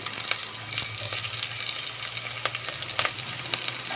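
Curry leaves dropped into hot oil hiss in a steady, close sizzle, with scattered sharp pops and crackles spitting through the continuous frying noise.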